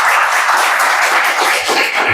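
An audience claps for a teacher at a public talk, dense, steady applause from many hands filling the room, loud and close throughout.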